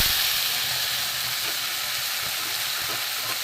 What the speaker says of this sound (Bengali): এবার আমি বাটা মশলাটা দেব।